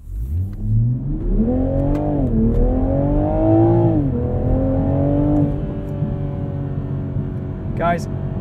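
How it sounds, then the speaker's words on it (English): Inline-six engine of a 2021 Toyota Supra 3.0 Premium pulling hard from a standstill to 60 with traction control on, a loud, close engine note climbing in pitch through shifts before settling. "We're in drive, and we'll just do a little 0-60."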